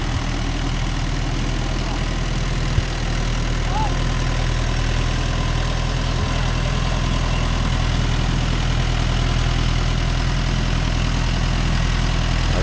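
A vehicle engine drones steadily at a low, even pitch while ploughing a furrow in a field, running continuously and close by with little change.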